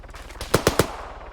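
A machine gun in a video game fires a quick burst of three evenly spaced, punchy shots, moderately close, with a low background hum around them and no talk.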